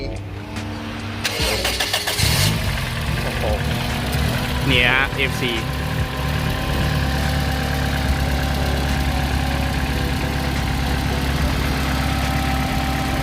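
A turbocharged Toyota Vios engine, about 237 horsepower, idles steadily with a low, even rumble throughout, while someone talks over it near the start.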